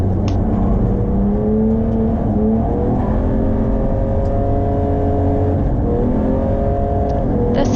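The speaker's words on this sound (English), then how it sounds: "Kel continues to push hard, passing Chris Brown in the Alpha, setting him up with a poor line into 4." A BMW race car engine at the ERC Taupo circuit races loudly and continuously, its pitch rising and falling through gear changes as it pushes hard on track, with no talking.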